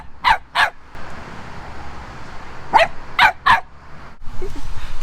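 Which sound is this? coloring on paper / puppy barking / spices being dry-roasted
puppy barking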